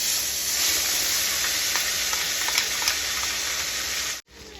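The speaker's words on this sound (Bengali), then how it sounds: "এবার মশলাটা আমি দিয়ে দেবো তেলের মধ্যে" Spice paste of dried chilli, tomato and onion frying in hot oil, a loud dense sizzle and hiss held steadily at close range before abruptly cutting off near the end.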